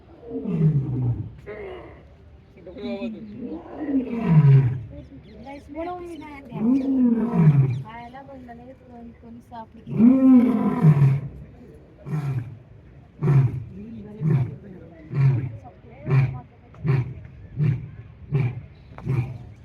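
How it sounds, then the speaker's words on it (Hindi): A lion roars in a long series of deep, groaning calls that grow shorter and more rhythmic toward the end, loud and close. "शेर की आवाज़ है।"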